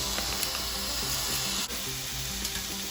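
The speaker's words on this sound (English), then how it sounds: "Has a nice sizzle." Plant-based shrimp made mostly of konjac powder sizzle and crackle steadily in a hot grill pan, a close, continuous frying hiss with a few small scrapes and no talk.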